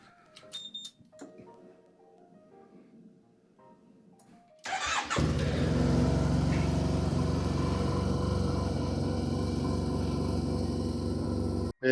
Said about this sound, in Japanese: エンジンをかけてエア抜きの作業を行っていきます。